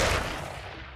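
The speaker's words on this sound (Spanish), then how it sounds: "Disparo libre." Gunfire in the alien-invasion strategy game Xenonauts: a sharp burst of shots that decays over about a second, moderately loud and with no voices over it.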